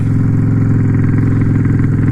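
A Yamaha V-Star XVS 650 cruiser motorcycle engine runs steadily in a loud, close, even thrum with no talking.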